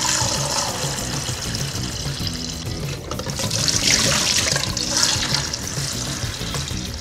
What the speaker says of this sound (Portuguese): Joga água fria.